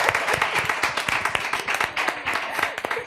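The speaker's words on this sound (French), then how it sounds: "Je vais vous dire d'acclamer pour mes mamans, mes 3 mamans." An audience claps and cheers in a dense, continuous burst of applause, with sharp hand claps standing out close by against the steady crowd noise.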